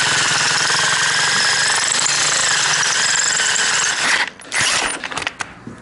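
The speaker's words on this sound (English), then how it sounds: "We're gonna drill a big hole." Heavy drill boring a large hole through metal in a workshop while fixing up a cheap Kawasaki dirt bike, a loud continuous grinding whine that runs steadily for about four seconds, then stutters and cuts in and out as the bit catches.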